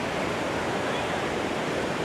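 Steady broadband surf from ocean waves at My An Beach in Da Nang, Vietnam, a continuous even wash with no distinct breaks, fairly close and moderately loud.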